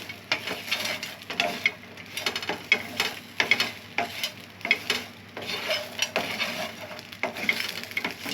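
Close, steady sizzling of food frying in oil in a pan, broken by repeated scraping and stirring strokes of a utensil against the pan, with no voices.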